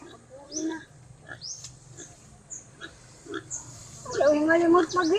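A pig oinks and grunts around feeding time in a rural Filipino yard, the short snorts scattered and fairly near, while people talk over them. A louder burst of squealing comes near the end.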